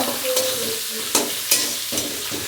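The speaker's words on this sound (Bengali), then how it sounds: "এটা মাথা ভাজা হচ্ছে" A catla fish head fries in hot oil, with a loud close-up sizzle and crackle punctuated by several sharp clattering stirs or turns in the pan, no voices.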